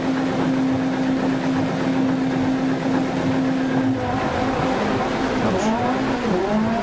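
A Peugeot 205 Rallycross car engine in the video game Dirt Rally 2.0 drones at a steady pitch, then revs and shifts through very short gears in rising and falling tones near the end, with rumbling noise underneath.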